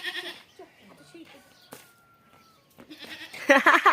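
A goat bleats nearby, a wavering cry heard among people talking, with louder voices toward the end; the goat has recently given birth.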